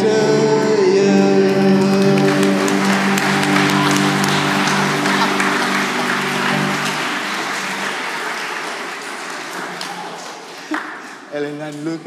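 A church congregation at Sunday Mass claps after singing happy birthday to Elena, with lingering sung or organ tones at first under the clapping, which fades to scattered claps and a few taps by the end.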